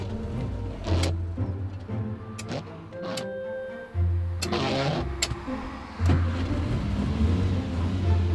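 A Fiat X19 engine is cranked and fired several times, with bursts of starter whirr and brief catches of a low engine note between clicks and handling noises, ending with the engine turning over repeatedly.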